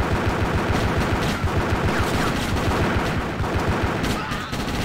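Dual pistols fire in GTA Chinatown Wars in rapid, continuous bursts of sharp shots, loud and close throughout, with a dense rattling rhythm that barely pauses.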